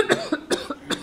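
Three short, sharp coughs in quick succession, close and fairly loud.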